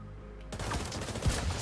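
Rapid gunfire in the video game Division 2, a dense burst that cuts in abruptly after half a second and keeps going loud and busy to the end, with heavy low thumps and one sharp punchy blast near the finish.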